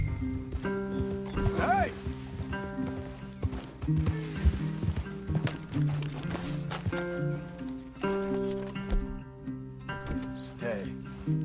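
Horses' hooves clip-clopping in Red Dead Redemption 2, irregular nearby steps with a whinny, mixed with in-game voices, music and a shout.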